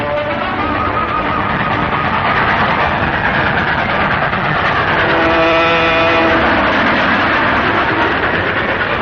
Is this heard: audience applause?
no